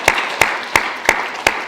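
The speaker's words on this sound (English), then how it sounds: "Let's give her a round of applause" Slow, rhythmic clapping at a school excellence awards ceremony, five distinct beats set against a softer wash of scattered audience applause.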